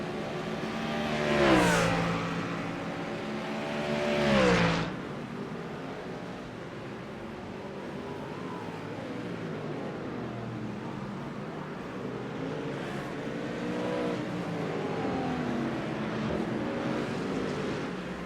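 GT3 race cars, a Mustang and a Lamborghini, battling at Okayama in a racing video game; two loud engine passes with sharp revs early on, then a steadier drone of engines at a distance, no talk.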